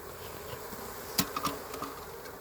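Faint honeybee buzzing over a steady low hum at an opened hive being smoked, with a few brief louder buzzes passing close.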